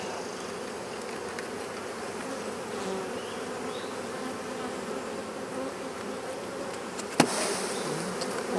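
Honey bees buzz steadily around a hive after a swarm trap-out at Gilford Lake, a dense continuous drone close by, with a sharp knock near the end.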